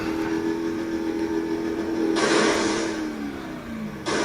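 A car engine in a driving video game revs steadily, its pitch swelling with two sudden bursts of louder, brighter noise, all at a constant close level.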